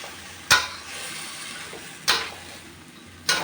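Bean sprouts stir-fried with fried tofu in a pan, three sharp clanks of a utensil against the pan spaced a second or so apart over a soft steady sizzle, no talking.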